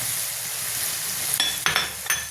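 Goat brain frying in a pan, a steady sizzle with a few sharp stirring scrapes near the end, close and alone.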